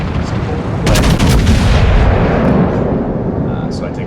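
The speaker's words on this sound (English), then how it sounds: "So I take a blind shot at him," Warship main gun in World of Warships fires a shot: a loud, booming blast over steady low game rumble, with a sharp crack near the start and a long fading roar.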